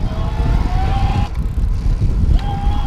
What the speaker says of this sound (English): I want you to hear the noise that the motor produces